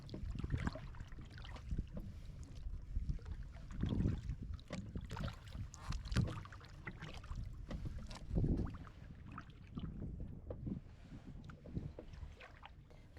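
Kayak paddling near a grassy island on a living shoreline at a wildlife area, with soft, rhythmic paddle strokes and water swishes at a steady pace under light wind, fairly quiet and close.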